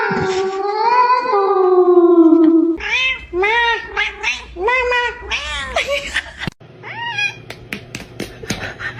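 A kitten gives one long, drawn-out meow, then a quick series of shorter, higher meows and cries, close and loud, with a few sharp clicks toward the end.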